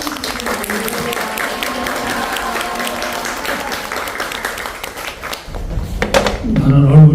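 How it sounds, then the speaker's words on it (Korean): A church congregation at a Korean holiness church general assembly worship service in Hawaii applauds loudly to welcome the preacher, a close, busy clapping that fades before a voice begins speaking at the end. "나오실 때 우리 할렐루야 그리고 박수를 해주시기 바랍니다."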